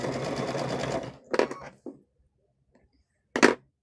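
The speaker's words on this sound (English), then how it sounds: "we are going to sew there" A sewing machine runs a straight stitch on a microwave bowl koozie, one sustained burst of motor whir followed by short start-stop runs and a final quick spurt, with silence between.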